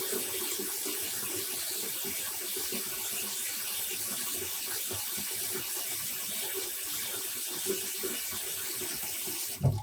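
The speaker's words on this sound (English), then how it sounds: "We may have to rinse it a few times to get rid of all the excess dye." Water runs steadily from a tap into a rinsing tub while dyed black yarn is rinsed to wash out excess dye, a constant close gush that ends in a brief splash.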